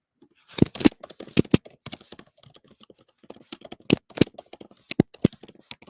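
Irregular clicking keystrokes on a computer keyboard, close and crisp, coming in short bursts of rapid taps separated by brief pauses, with no voice.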